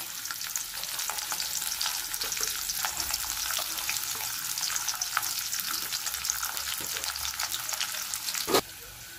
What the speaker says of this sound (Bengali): রিং রিং পেঁয়াজগুলো, এগুলো ভেজে নেব তেলে